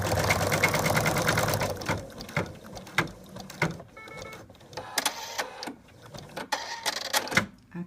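An embroidery machine stitches a small round dog muzzle piece for an in-the-hoop stuffed toy, a steady mechanical whir at first, then rapid stitching bursts and clicks with short pauses, close and fairly loud, no one talking.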